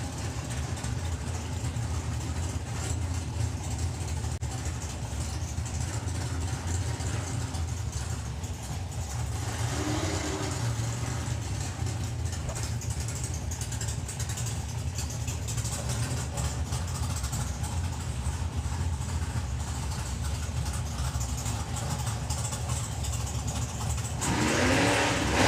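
Drag racing cars, a Barracuda and a Supra, rumble and rev loudly and continuously at a national finals drag strip, the roar of the engines sustained throughout the whole clip.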